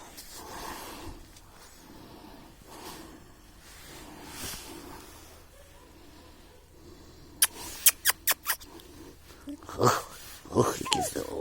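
A dog outdoors on its first day out in the cold, giving snorts and whimpers, then a burst of sharp, close, loud barks near the end while a person speaks to it.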